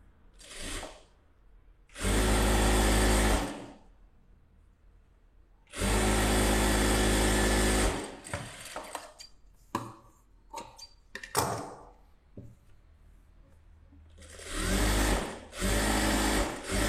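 A sewing machine stitches a blouse in several loud, steady bursts of a few seconds each, separated by quieter stretches of fabric handling and small clicks.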